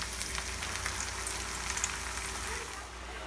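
Pieces of Cuban chicken fry in very hot oil, giving a steady, close, even sizzle that holds for the whole stretch and softens slightly near the end.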